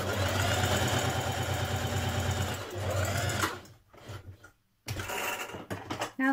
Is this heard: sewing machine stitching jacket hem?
yes